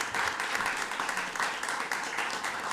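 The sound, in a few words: audience applause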